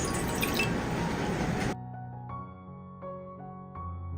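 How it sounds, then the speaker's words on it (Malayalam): A cup of water is poured into a cooking pot in a continuous rushing splash that stops abruptly, followed by a few faint ringing clinks of the metal vessel. "ഇനി നമുക്ക് വേറൊരു പാത്രത്തിലേക്ക് 1 കപ്പ് വെള്ളം ഒഴിച്ചു കൊടുക്കാം"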